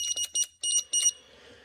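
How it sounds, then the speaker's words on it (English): Linear AK-11 gate keypad giving paired electronic beeps, about five short loud tones in quick bursts, clear and close, then stopping and leaving a faint background hum. "you get this double beeping, and it doesn't respond to the right code"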